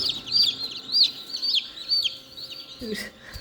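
Dense, high-pitched peeping of many newly hatched chicks in an incubator, continuous and fairly close, with a short low thump near the end.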